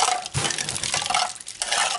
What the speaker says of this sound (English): I'm going to add my 2 cups of ice water.